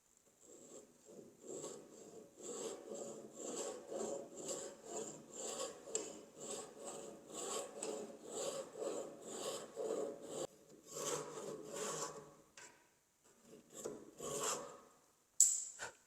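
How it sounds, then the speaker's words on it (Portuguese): A Japanese pull saw rasps through wood in steady, rhythmic strokes, close and clear, pausing briefly near the end before a few final cuts. "Eu vou usar o serrote japonês. O serrote japonês a gente só puxa ele"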